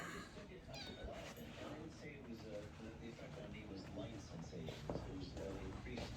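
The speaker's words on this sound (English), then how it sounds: "Everybody's meowing or barking" Several cats meow repeatedly and overlapping, fairly close, with a steady background of household noise and voices.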